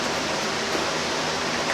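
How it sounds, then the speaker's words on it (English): Electric fan running in a hot Tennessee garage, a broad steady rushing whoosh that is loud and close, with no voice over it. "Sorry about the fan noise."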